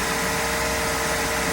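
A Mopar Chrysler 318 V8 boat engine running, a dense, steady, loud mid-pitched drone with no change in speed across the short stretch.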